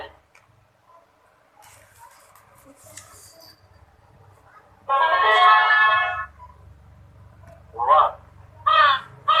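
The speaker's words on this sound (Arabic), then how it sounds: "غراب." A crow caws loudly once, then gives two shorter caws after a pause, set against a quiet background, as the animal-sound clip of a children's educational toy plays.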